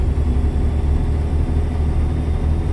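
A truck engine in American Truck Simulator drones steadily at a low pitch, a continuous rumbling hum with no pauses.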